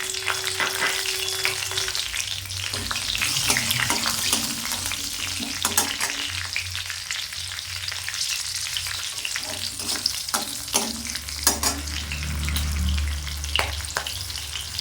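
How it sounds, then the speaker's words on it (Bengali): Four to six green chillies fry in hot mustard-fish oil with black cumin, a loud, continuous crackling sizzle broken by frequent spatter pops and stirring scrapes close up, no voices. "4-6টা কাঁচা লঙ্কা দিয়ে দিলাম।"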